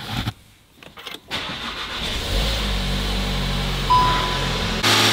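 Skoda RS engine starting on a cold evening, a few brief cranking sputters and pauses before the engine catches, then a firm steady idle rumble that swells briefly and holds close and loud.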